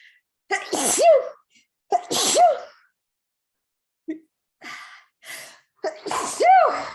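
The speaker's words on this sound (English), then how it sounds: "I'm going to sneeze here." A person sneezes several times in a row, sharp loud bursts with gasping inhales between them, close and with no other sound around.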